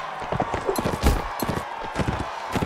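Galloping horse hooves in Mount & Blade: Warband, a rapid, uneven run of loud, close clip-clop strikes over a steady background hum.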